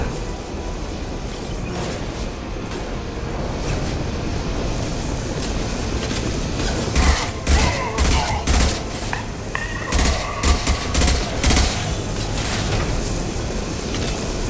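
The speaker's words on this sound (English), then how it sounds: "Firing an impact shot!" An impact shot from the shooter Mass Effect 2: a rapid fusillade of sharp, loud gunshots in irregular bursts over several seconds, backed by steady battle ambience.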